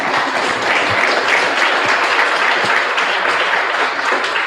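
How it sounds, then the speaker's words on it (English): An audience at a hackathon welcome ceremony claps loudly and continuously, a thick sustained wash of many hands with no pause and no talking over it. "Yes, please clap."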